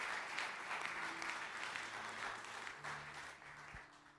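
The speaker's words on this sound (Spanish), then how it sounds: "Let's give a strong applause from the Lord." A church congregation applauds during a religious ceremony, a steady, distant wash of many hands clapping at low volume with no voices over it.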